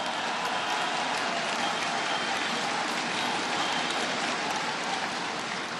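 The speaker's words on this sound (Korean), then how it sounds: "남경필 후보에게 뜨거운 성원의 박수 부탁드리겠습니다" Warm applause from party delegates at a Grand National Party convention for candidate Nam Kyung-pil, a dense, even wash of clapping that stays steady throughout like heavy rain, with no voices.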